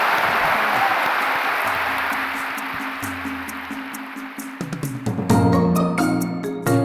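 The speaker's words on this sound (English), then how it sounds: "And I have a round of applause for Malcolm Gladwell" An audience applauds an author at a live talk, with steady, broad clapping that continues throughout. A music sting rises under it near the end.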